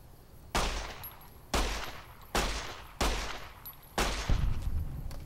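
Five gunshots from a weapon in Fallout: New Vegas, fired in a steady rhythm about one second apart, each a sharp report with a short tail. Game background noise sits underneath.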